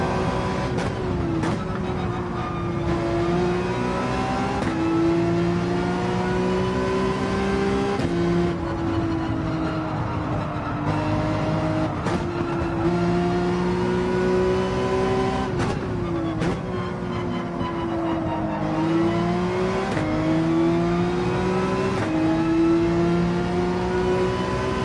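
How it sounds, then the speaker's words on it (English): A race car in Gran Turismo 7 roars steadily throughout, its engine pitch climbing through the revs and dropping at each gear shift in a repeating rise-and-fall pattern, loud and continuous with no talking. "Just listen to this engine for the right time to shift"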